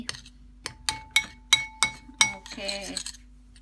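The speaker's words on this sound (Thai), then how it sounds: "คนส่วนผสมเนี่ยนะคะ ที่เขาเป็นสีขาวๆ เนี่ยนะคะ คนให้เขาละลายดี" A spoon strikes the sides of a bowl while stirring a white marshmallow mixture until it melts: about six sharp, ringing clinks at an uneven pace, then a brief softer scraping swirl, close and fairly quiet.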